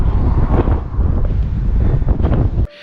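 Strong wind buffets the microphone outdoors on a riverbank by the River Trent with loud, rumbling gusts, then cuts off abruptly near the end.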